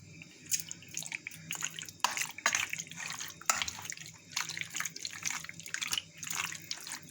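Raw chicken pieces being washed in water with lemon in a home kitchen, giving repeated splashy drips and sloshes that rise and fall in a steady rhythm at close range, with no talk.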